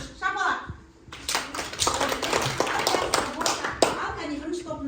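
Third-grade schoolchildren clap their hands together in a literature lesson classroom, a dense burst of many hands lasting several seconds after a brief spoken cue from the teacher, with children's voices mixed in.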